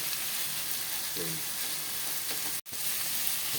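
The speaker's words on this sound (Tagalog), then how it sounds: "Sunod na po natin itong yung labong. Lahat po yan ginigisa." Bamboo shoots (labong) sautéing in a pan for totchong bangus give a steady close sizzle with faint stirring, cut by one brief dropout near the end.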